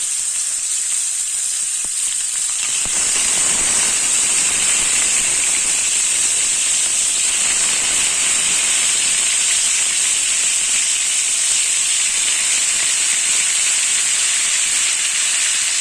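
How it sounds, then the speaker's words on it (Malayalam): Chicken pieces fry in sunflower oil with a loud, steady sizzle and hiss. It intensifies a few seconds in, as the pieces go into the hot pan, then holds for the rest of the stretch with no talk. "ചിക്കൻ ഫ്രൈ ചെയ്തെടുക്കണം."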